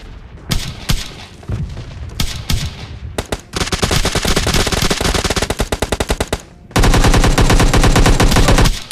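Dense automatic gunfire from a PUBG Mobile Lite duo fight, an M416 rifle against an S12K shotgun, with rapid bursts and a long sustained loud stretch of rattling shots, no talking.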